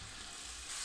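Onion sautés in vegetable oil in a pan, a steady close hiss and crackle of frying that runs briefly without any voices.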